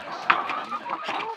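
Backyard chickens clucking close by, a series of short irregular clucks and squawks from the flock, one sharper call standing out, with no talk over them.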